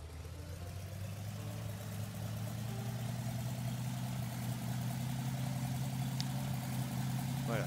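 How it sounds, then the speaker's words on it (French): A propeller aircraft engine holds steady at 2000 rpm in a flight simulator modelling a Nord 1101 Ramier. It makes a continuous, even low drone with a faint higher whine and no voices over it. "Régime moteur, 2000 tours minute."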